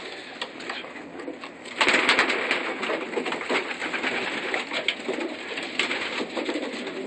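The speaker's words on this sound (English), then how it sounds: "This is from a slate hen and a bird, a cock that I have named Bertolucci" Young pigeons coo softly and repeatedly nearby in a loft, with faint rustling and handling noises underneath the low, steady calls.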